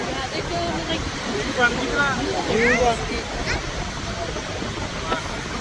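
Loud, continuous rushing water of Niagara Falls roars throughout, with voices and brief shouts over it.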